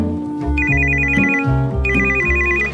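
A telephone rings in a domestic TV drama scene, its electronic ringtone chirping in two repeated bursts over a steady musical score, loud and close.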